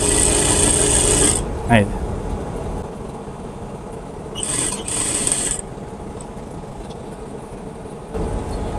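A sewing machine stitches a kameez in short bursts, with quick mechanical whirring that starts and stops between pauses, close and fairly loud, while someone talks.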